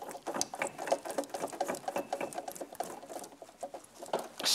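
A ratchet tool clicks rapidly and steadily as a part is tightened on a used car, the fine quiet ticks running in an even stream up close with no talk.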